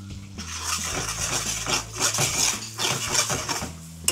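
A spoon stirs a samgyupsal dipping sauce in a bowl, making a steady close scraping with small clinks of metal on the dish, no talking.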